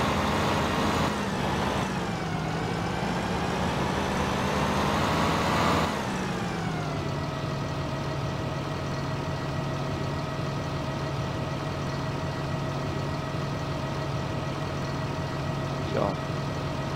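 A Fendt 8350 combine harvester engine in Farming Simulator 2009 runs steadily, a continuous droning hum with a pitch shift early on before it settles into a constant idle-like tone; no one speaks.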